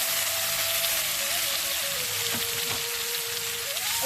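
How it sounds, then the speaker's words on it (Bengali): Chopped onion and tomato frying in a pan for a Bengali besan vegetable curry, a continuous close sizzle with a faint whistling tone running underneath. "এবার দিয়ে দেবো পেঁয়াজ কুচি আর টমেটো কুচি"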